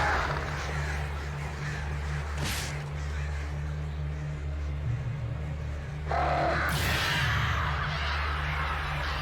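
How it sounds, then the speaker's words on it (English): Crows cawing in the Alan Wake game, several harsh caws over a constant low ambient drone, with a whooshing rush swelling near the end. "All I got were those birds."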